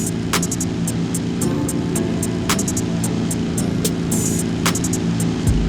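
Forklift driving in a Halo Reach PC mod, heard as a steady droning engine hum with faint rumble and scattered clicks, held at a constant level throughout.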